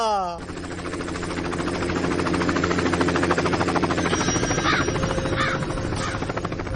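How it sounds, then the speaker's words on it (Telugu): A helicopter thumps loudly overhead, its rotor chopping in a fast, steady rhythm that stays close throughout. "మన ఊర్లో హెలికాప్టర్ ఏట్రా?"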